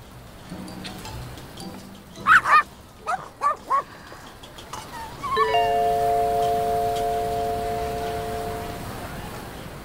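A dog barks several times in quick sharp yips and woofs, fairly close, followed by a steady sustained tone lingering under soft background noise.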